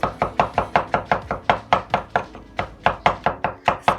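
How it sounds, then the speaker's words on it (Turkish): A knife chops mushrooms into small cubes on a board in about two dozen quick, evenly spaced, crisp strokes, close and clear with no talking. "mantarlarımı da şöyle küp küp ya da küçük ufak ufak da doğrayabilirsiniz"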